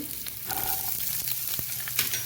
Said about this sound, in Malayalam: വെളുത്തുള്ളി ഇട്ടു നന്നായിട്ടൊന്ന് വഴറ്റണം